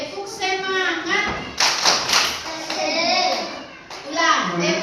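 Classroom of children doing a rhythmic spirit clap, bursts of patterned hand claps and thuds mixed with children's voices chanting and talking throughout.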